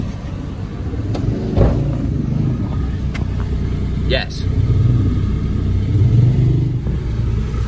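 Citroen C1 small petrol engine idling with a blown exhaust, a low steady rumble throughout, with someone speaking over it.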